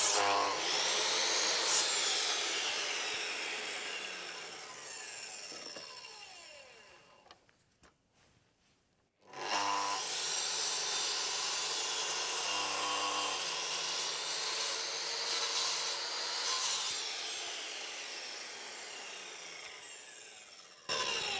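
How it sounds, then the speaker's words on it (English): A miter saw cuts wood for a birdhouse, making two loud, sustained, whining cuts close by, separated by a short quiet pause. "I have to say, a miter saw really helps with these projects"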